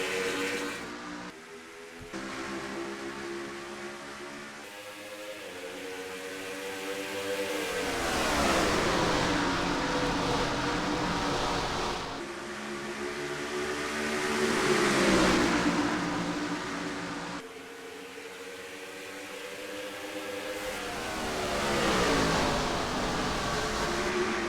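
Race cars in a NASCAR-style video game league race, the Allegiant 500K, roar steadily with layered engine drones that swell and fade as cars pass, continuous and loud throughout with no talking.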